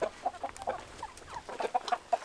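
Chickens cluck in short, repeated bursts close by, a flock chattering and murmuring in an irregular rhythm with no talking.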